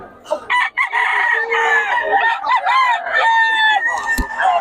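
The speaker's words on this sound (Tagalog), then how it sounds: "Ang gaganda ng manok ngayon" Several roosters crow loudly and close by in overlapping calls at a poultry market in Bocaue, with clucking chickens filling the gaps throughout.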